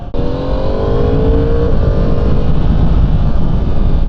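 A Yamaha R1 sport motorcycle's engine revs loud and close, a sustained high-pitched whine that rises and then holds steady as the bike pulls away, with no voices.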